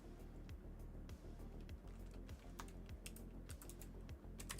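Steady rapid typing on a computer keyboard, close and fairly quiet, with irregular clusters of key clicks continuing throughout and no talking.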